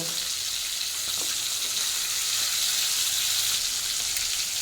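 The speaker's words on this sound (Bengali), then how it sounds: "এখন এক এক করে ছেড়ে দেবো পমফ্রেট মাছ। মাছটা যেহেতু অনেকটাই বড়, তাই একটা একটা করেই ভেজে নেব।" Pomfret fish frying in hot oil in a home kitchen, a steady, dense sizzle and crackle that holds close and even throughout with no talking.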